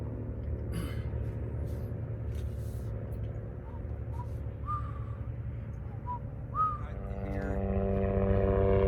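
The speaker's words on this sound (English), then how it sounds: "As the helicopter flies over," A low, steady mechanical rumble fills the whole stretch, growing slightly louder near the end, as a helicopter passes overhead, heard from inside an Easy Camp Spirit 300 tent, with faint whistling tones above.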